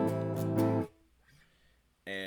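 An acoustic guitar chord strummed in a down-up pattern: a few bright, ringing strokes, then a short lull with faint sound, then another sharp strum near the end, close and clear with no voices.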